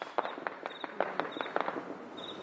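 Sharp cracking shots of India-Pakistan ground fire pop off in an irregular series, about a dozen in a couple of seconds, sounding distant and echoing, with no talking.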